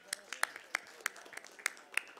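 Applause during an online plenary meeting of the CAU/BR council: a handful of sharp, fairly quiet hand claps at an uneven, unhurried pace, heard close to the microphone.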